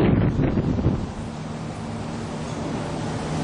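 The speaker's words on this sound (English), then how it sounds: "it's windy out here" Wind buffets a microphone outdoors, loud gusty rumbling at first that eases into a steadier roar, with no voices heard.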